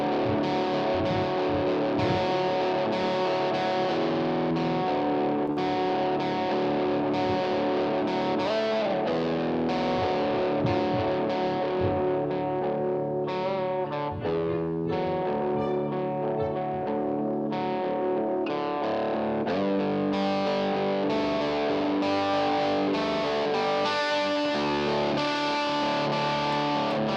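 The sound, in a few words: electric guitar played through distortion effect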